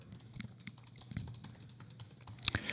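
Quick, irregular keystrokes on a computer keyboard as a song name is typed, close and fairly quiet, with a slightly sharper key press near the end and no talking.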